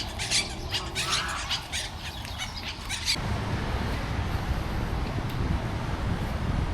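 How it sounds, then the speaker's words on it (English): A parakeet squawks repeatedly in a park in Athens, sharp bursts in the first few seconds that then give way to steady outdoor wind noise. "I think there's a parakeet here"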